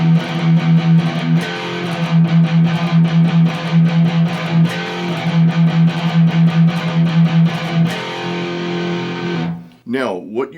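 A distorted electric guitar plays a galloping metal riff, its chugging rhythm running steadily for about nine seconds before cutting off with a brief wavering tail at the end.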